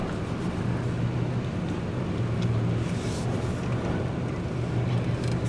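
A car reverses slowly at a cold February Cars and Coffee meet in Golden, its engine giving a steady, low, close rumble with no voices over it.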